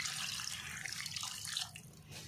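Water pours steadily into a pot of palak chicken curry gravy, a continuous close splashing that eases slightly toward the end.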